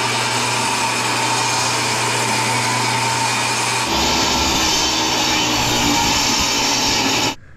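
A power saw cuts wooden blocking for a DIY shed build, a loud steady whine running continuously with a shift in pitch partway through before cutting off at the end.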